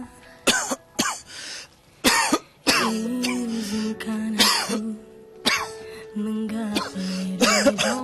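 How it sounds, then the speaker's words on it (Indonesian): An older man coughs in several harsh, repeated fits with some throat clearing, close and loud, while a voice speaks briefly in between. "batuk Bapak tambah parah aja"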